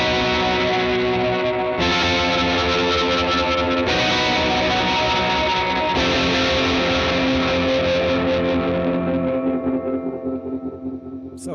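Electric guitar chords ring through a Gamechanger Audio effects pedal with dry signal blended in, sustained and distorted with a wash of echo. New chords are struck every couple of seconds before the last one fades out, with no talking.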